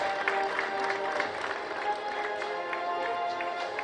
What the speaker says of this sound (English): Let's keep our applause going,